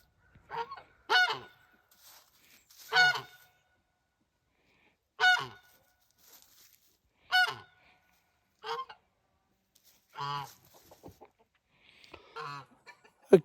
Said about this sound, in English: Watch that chicken.